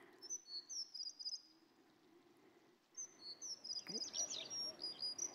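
Recorded bird calls played back at a presentation: repeated high chirps and tweets in short bursts over a faint insect-like background, with a brief spoken word partway through.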